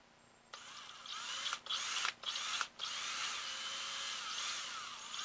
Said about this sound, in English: you want to just try to drill really close to center on here